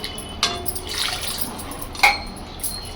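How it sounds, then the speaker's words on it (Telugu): Water splashes and pours briefly into a vessel, with a couple of sharp splashy bursts and a soft trickle between them, close by. "రెండు గ్లాసులు నీళ్ళు వేసుకోవాలి"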